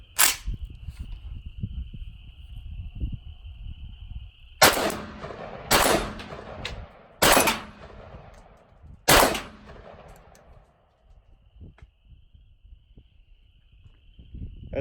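An AK-74 chambered in 5.56 firing steel-case Russian ammunition outdoors, about five loud, sharp shots spaced a second or two apart, each with a short echoing tail, while insects drone faintly in the background.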